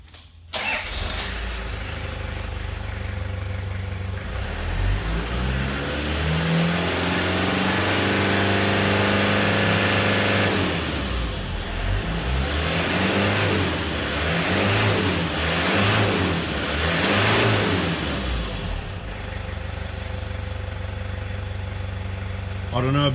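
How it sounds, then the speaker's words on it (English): A Toyota 1KZ diesel engine fitted with new injectors cranks and starts, then settles into a steady idle broken by a few small revs that rise and fall, loud and close throughout. "I'm just going to give it a quick start and give it a few small revs to show you how clean a 1KZ should be"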